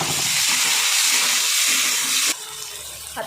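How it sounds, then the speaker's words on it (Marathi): Tomatoes hitting a pan of browned onions for a cowpea curry, a loud rushing hiss of steam and sizzle that drops abruptly after a couple of seconds to a softer fry. "आता याच्यामध्ये ना टमाटे टाकून घेते आता टमाटे चांगलं परतवून घ्यायचं आहे"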